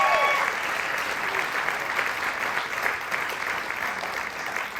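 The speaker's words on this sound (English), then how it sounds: "Give them a big old round of applause" Sustained audience applause at a storytelling festival in Nebraska, a dense, steady wash of many hands clapping that holds at an even level throughout, with no voices rising above it.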